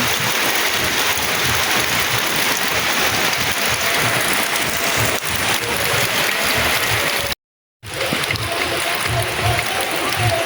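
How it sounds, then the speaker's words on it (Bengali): Rain falls on a roof in a steady, dense patter that holds at an even loudness throughout, broken only by a brief gap near the end. "তো অনেকক্ষণ ধরে বৃষ্টি দেখলাম বসে বসে, আমার সাথে আপনারাও দেখলেন।"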